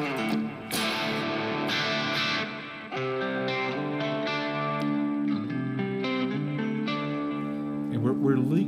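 An electric guitar runs through a Kemper AC Silver Bell Bolt patch with reverb and delay from an HX Stomp, playing sustained chiming chords and ringing notes continuously and loud, with no talking.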